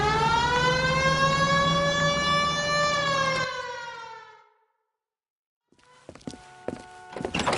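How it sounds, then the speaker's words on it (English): Police car siren in a 1940s-style LAPD detective video game, a loud wailing tone rising then dying away into silence, followed by scattered thumps and clatter near the end. "Hit the siren."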